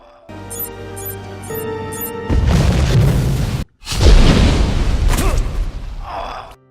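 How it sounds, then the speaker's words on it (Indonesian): A loud bomb blast erupts after a brief musical intro, with a deep rumbling boom, a sudden cut, then a second roaring explosion fading out. "Bob berhasil lolos dari ledakan bom tersebut."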